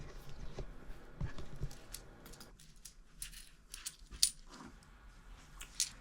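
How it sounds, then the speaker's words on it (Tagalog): Coins dropping and clinking into a small piggy bank, a few scattered metallic taps and rattles at close range, fairly quiet, with some handling noise between them. "Susubukan kong mag-ipon ng mga barya sa maliit na alkansya na to."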